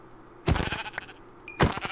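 Sheep bleating in the Minecraft SevTech Ages modpack: two short, nasal game-sheep bleats spaced about a second apart, clear and close over a quiet background.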